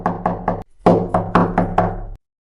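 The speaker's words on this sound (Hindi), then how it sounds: "मुझे दरवाजे पर खटखटाने की आवाज सुनाई दी, और इस बार पहले से कहीं ज्यादा तेज" Three quick knocks on a wooden door, a brief pause, then five more firm raps in a steady rhythm, close and loud.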